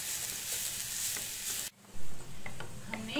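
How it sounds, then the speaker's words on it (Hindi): Grated carrot and cabbage stir-fried in a pan for momo filling, a bright sizzle that cuts out briefly, then resumes with a thud and clinks of stirring. "तो हम इसमें गाजर डाल देंगे और चलाते हुए हम इसे भूनेंगे"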